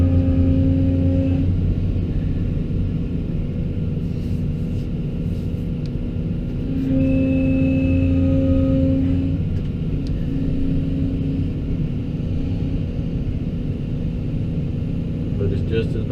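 A truck hauling brush over bumpy ground: a loud, steady engine drone with low rumble and faint rattles, running continuously throughout with little change in level.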